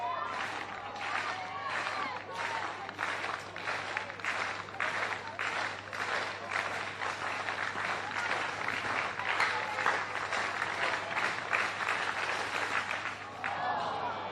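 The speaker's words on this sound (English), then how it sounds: "So he wants the clap going now." A stadium crowd claps in steady rhythm for a high jumper at a Little Athletics championship, even beats continuing for about fourteen seconds with crowd noise and commentary underneath.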